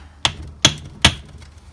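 Three sharp, evenly spaced metallic hammer strikes on a big punch, driving a pin out of a Jeep Grand Cherokee's Aussie locker differential, close and ringing with short decays.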